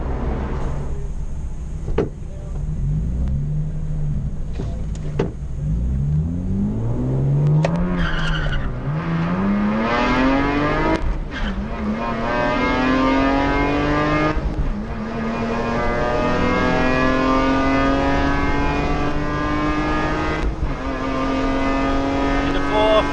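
A Lexus IS200 on a racetrack revs hard, its engine pitch climbing steeply through gear changes with brief dips at each shift, loud and close from inside the car, with tyre noise and an occasional voice over it.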